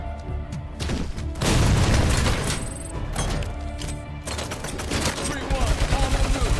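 Gunfire in the RoboCop: Rogue City video game erupts as bursts of rapid automatic shots and heavy booms, loud and close, with rattling fire and impacts, while voices shout in the game.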